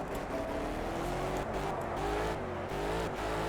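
A stock car engine roars steadily near and loud while racing around the Monaco street circuit in Project Cars, its pitch rising and falling through gear changes across the lap with no pause.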